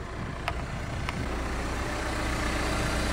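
A 2021 Opel Insignia 2.0 diesel with the hood closed idles in a steady, low, muffled rumble, with two faint ticks early on.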